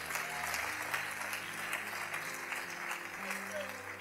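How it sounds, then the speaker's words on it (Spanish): A church congregation applauds steadily at a moderate distance, a dense even wash of clapping that continues without a break. "Iglesia, bendícelo con tu ofrenda de palmas."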